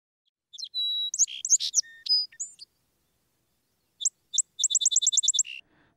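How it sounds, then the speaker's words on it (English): Coastal song sparrow singing near Port Alberni on Vancouver Island: a bright, close phrase of varied chirps and trills, a pause, then a rapid run of evenly spaced notes ending in a buzzy tail. "Now here is one of our coastal song sparrows"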